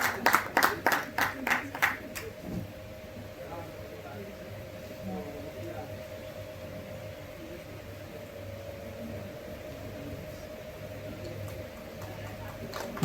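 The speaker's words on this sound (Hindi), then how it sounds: "बहुत सुंदर क्षण और जोरदार तालियों के साथ" An audience at a university lecture for Buddha Jayanti claps in a short burst of sharp, distinct claps that fades after about two seconds, leaving a quiet room with a low steady hum.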